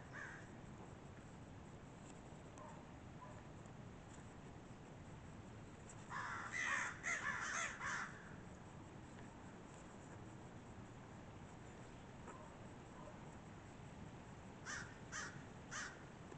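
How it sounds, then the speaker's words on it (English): Crows cawing outdoors in a park, a burst of several harsh caws in quick succession, then a second shorter group later, faint and distant over steady background hiss. "Crows are hawking up a storm out here today."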